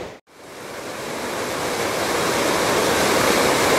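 Water pours steadily over a dam on the Au Sable River in a Michigan state park, a loud, continuous roar of rushing water that rises after a brief gap at the start.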